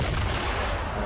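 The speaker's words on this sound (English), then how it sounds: "I'll just throw some explosions." Dense, continuous booming from explosives thrown in the Fortnite video game, a loud, close rumble of overlapping blasts with no clear gaps.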